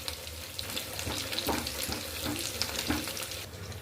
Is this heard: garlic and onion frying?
yes